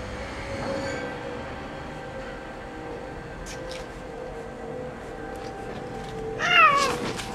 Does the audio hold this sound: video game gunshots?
no